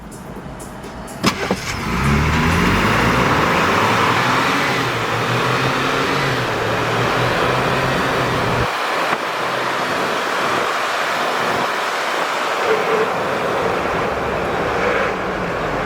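Tires of a 2022 Ford Bronco rolling on a road, a steady loud broadband roar from inside the cabin that builds up in the first seconds and holds, with no talking.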